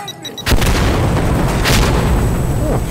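A loud explosion blast in the video game Insurgency Sandstorm bursts in after a brief quiet start, followed by a sustained rumbling roar with further booming bursts, close and heavy.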